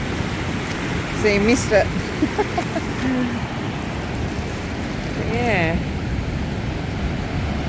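Ocean waves washing onto a sunny beach at Coffs, a broad steady roar of surf with wind buffeting the microphone, while people talk briefly over it.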